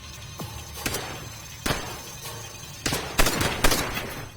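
Sporadic gunshots in the WWII shooter Call of Duty: World at War, a handful of separate sharp cracks at irregular intervals with a couple of closer, louder bursts near the end, no talking.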